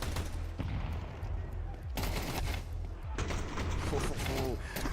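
Rapid gunfire from a Tech-9 pistol in the video game Counter-Strike during a competitive match, bursts of shots crackling over busy game noise while a commentator talks throughout.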